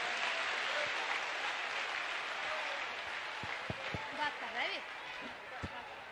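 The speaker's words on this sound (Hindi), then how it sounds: "बिटिया के लिए खूब ताली बजाओ, खूब जोर से बजाओ" A crowd claps loudly and steadily at a mass wedding ceremony for 121 brides at Bageshwar Dham. The dense applause fades slightly toward the end as a voice speaks briefly over it.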